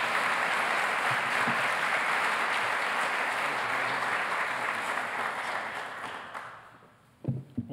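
Audience applause welcoming Dr. Vince Bertram at a Lockheed Martin high school intern signing event, a dense, sustained clapping from a large crowd that fades out near the end before a few faint thumps.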